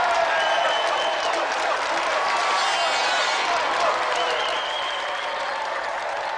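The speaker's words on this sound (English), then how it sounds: "let's have another round of applause" Sustained, loud studio audience applause on a game show, a dense and steady wash of clapping that holds for several seconds before easing slightly near the end.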